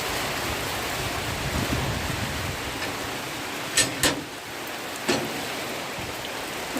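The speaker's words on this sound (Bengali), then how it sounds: "দেখো বাইরে বৃষ্টি হচ্ছে" Heavy rain pours outside, a dense, constant hiss of falling water heard steadily throughout, with a few brief sharp knocks nearby and no voices.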